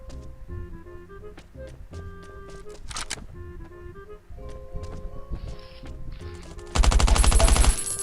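Gunfire in the survival shooter Last Island of Survival: scattered single shots and short bursts at varying distances over ambient game noise, ending in a loud, sustained close-range automatic burst.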